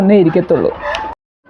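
A Gramasree hen sitting in a nest box to lay gives close, loud, drawn-out clucks and cackles in a quick run, with a person speaking over them before sudden silence.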